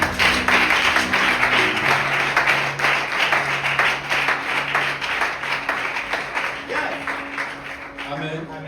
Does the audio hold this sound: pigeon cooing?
no